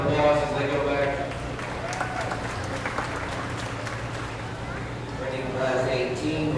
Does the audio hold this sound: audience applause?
yes